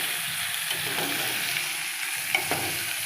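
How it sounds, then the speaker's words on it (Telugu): Ivy gourd curry with turmeric sizzles gently in a pan while being stirred, a steady low frying hiss with a few light utensil clinks and no speech. "దీనికి పసుపు వేసుకున్న తర్వాత కొంచెం కలుపుకోవాలి"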